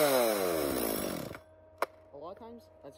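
A warm Stihl MS250 chainsaw engine revs and then dies out, its buzzing rapidly winding down, followed by a sharp click and a few brief clattering sounds as it stops.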